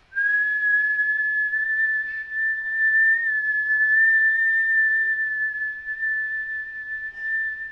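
A single steady whistled tone, whistled into a tuner app, is held clear and unbroken for several seconds, with only faint background noise around it.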